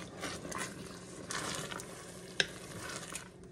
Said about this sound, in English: Stir all of that up.